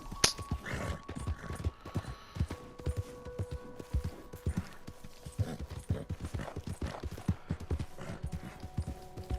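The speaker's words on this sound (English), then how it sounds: "Cavalo, coopera aí pra nós, viu? Vai ter que cooperar." Horse hooves clip-clopping at a steady walking rhythm in the video game Red Dead Redemption 2, close and clear, with someone talking over the footfalls at times.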